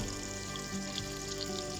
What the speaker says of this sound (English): So the butter's just starting to foam.